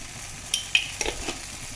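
Turmeric and garam masala frying in a pan for a brinjal fry, a soft continuous sizzle with a few light clinks of a spoon against the pan, close but quiet.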